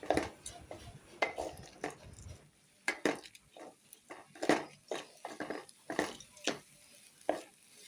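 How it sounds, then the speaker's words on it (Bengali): Rice and dal are fried with spices in a pan. A spoon stirs and scrapes irregularly against the metal, giving clinks and scuffs over a soft background sizzle. "এখন আমি সব মশলাগুলোকে ভালো করে মিশিয়ে নেব, সাথে চাল আর ডালটাকেও ভালো করে ভেজে নেব"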